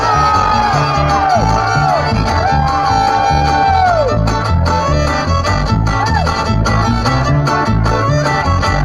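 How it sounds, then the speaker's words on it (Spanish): A festival crowd at a patronal-fest queen coronation in Nueva Colonia, Santo Domingo, cheers, whoops and shouts loudly and continuously, with music and voices blending into a dense, sustained roar. "¡Fuerte aplauso!"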